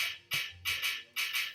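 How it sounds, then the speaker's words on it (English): Cascara rhythm struck with sticks on the metal side shell of timbales, a quick run of bright, sharp clicks in a syncopated pattern, close and alone. "Cascara sounds like this."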